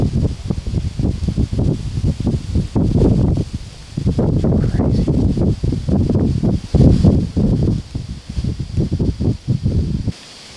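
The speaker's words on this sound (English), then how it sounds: "I'm sure you guys can tell how windy it is." Strong wind roars and buffets steadily through woods during a deer hunt, with bursts of rustling leaves and microphone gusts; someone speaks briefly near the end.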